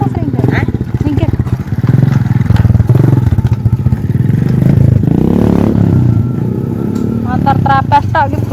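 A motorcycle engine runs close by, a steady loud drone under busy overlapping voices and clattering, with a brief revving note near the end.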